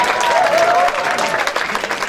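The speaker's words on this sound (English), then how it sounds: "That was round of applause for the young little lady." An audience at a Melbourne evening event gives a warm round of applause for a young girl's performance, loud and sustained at first and then thinning out, with a cheer audible over it.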